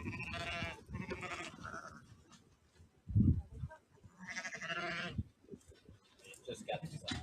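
Sheep bleat loudly in a video played back, with several wavering calls mixed among speaking voices and a short thump in the middle.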